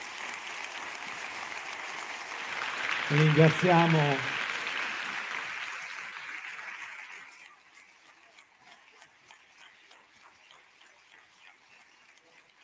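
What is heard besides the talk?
audience applause welcoming Liliana Segre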